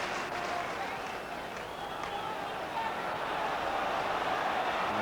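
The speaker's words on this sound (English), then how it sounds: "And the crowd urging Snowden to get on with it." A football stadium crowd at an Everton versus Spurs match roars and murmurs in a continuous distant wash, with a commentator talking over it.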